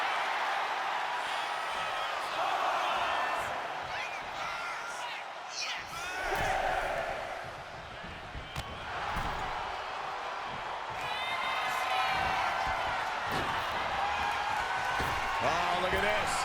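A crowd cheers steadily in the WWE 2K25 wrestling video game, a broad roar that swells and dips under excited commentary voices throughout.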